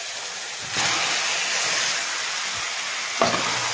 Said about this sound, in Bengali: এখন আমি মাংস ঢেলে দেব।